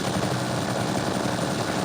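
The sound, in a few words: helicopter in video game Grand Theft Auto IV TBOGT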